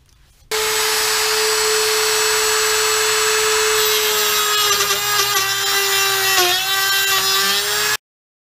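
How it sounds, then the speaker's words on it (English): A rotary tool fitted with a small, thin abrasive cutting blade starts with a sudden high steady whine and grinds continuously for several seconds, the pitch dipping as it bites into the material before stopping abruptly. "let's get the rotary tool out, get us an abrasive blade to start doing a little cutting"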